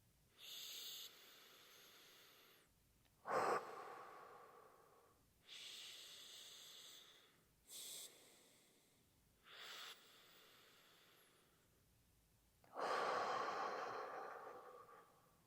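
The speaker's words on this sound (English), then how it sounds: "block the opposite nostril, one breath in, exhale, pull it away, one breath in without the smell" Slow nasal breaths during smell training, sharp sniffing inhales alternating with longer airy exhales through the nose, about six close breaths separated by quiet pauses.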